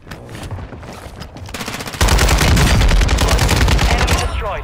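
Rapid automatic gunfire in Call of Duty: Modern Warfare II, with sporadic shots at first, then a loud, dense burst of continuous fire that runs through to the end.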